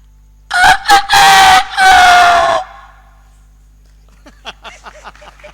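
A person imitates a rooster crowing, voicing a loud, close, multi-part cock-a-doodle-doo call in bursts over about two seconds, followed by fainter scattered sounds.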